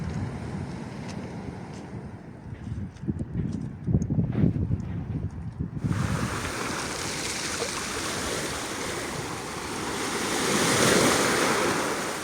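Small sea waves wash onto the shore at Esher, rolling in a continuous broad hiss with wind buffeting the microphone, the surf swelling louder partway through and staying close and steady.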